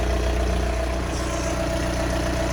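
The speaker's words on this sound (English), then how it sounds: "Sorry for the noise, it's a tractor running." A tractor engine runs steadily nearby, its loud low drone and even rumble holding constant without any revving for the whole stretch.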